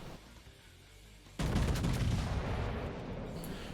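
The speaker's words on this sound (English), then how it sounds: "Cheeky salvo with the minnow." A naval gun salvo from a Slava battleship in World of Warships, a sudden heavy boom that breaks out of a quiet background and rolls into a long, loud rumbling tail.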